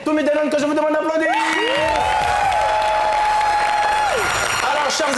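A studio audience applauding on a French talk show, broad clapping under music tones that swell and slide, with voices heard over it.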